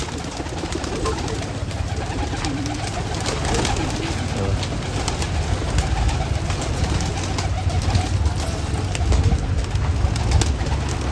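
Pigeons coo continuously at a pigeon festival in Nashik, a dense, close flock murmuring over a rumbling outdoor bed, with wing flutters and scattered chirps mixed in and no clear speech.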